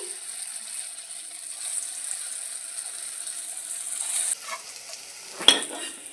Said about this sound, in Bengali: বাদবাকি বড়াগুলোও ভেজে নিচ্ছি